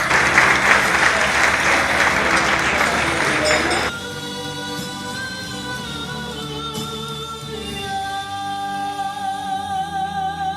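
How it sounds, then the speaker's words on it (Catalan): A crowd claps loudly for a few seconds at a rice cooking contest's closing ceremony, and the clapping then gives way to sustained music with tonal lines. "I anem a donar un fort aplaudiment a Carme i a Sergi"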